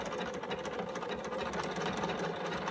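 A sewing machine runs a continuous triple stitch through denim with a clear presser foot, a steady dense mechanical whir that stays at the same level throughout.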